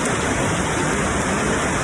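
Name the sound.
rain at Shannon Falls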